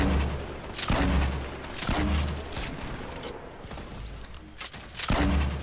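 Explosive bursts from grenades launched in a video game firefight, several heavy booms arriving in a loose rhythm about a second apart, loud and close over a continuous low rumble of battle.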